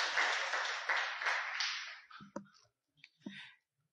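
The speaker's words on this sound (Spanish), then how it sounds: "Por favor, démosle un aplauso al Señor." A church congregation claps at the end of a Spanish-language sermon, a dense burst of applause fading after about two seconds into a few scattered claps.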